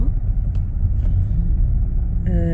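Road traffic rumbles in a jam with vehicles and trucks, a loud and continuous low drone heard from close by, with a brief whistle-like tone near the end.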